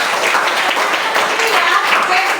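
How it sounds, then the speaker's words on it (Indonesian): A classroom of students claps their hands together in a steady burst of applause, bright and continuous throughout, with voices mixed in. "Tepuk tangan dulu."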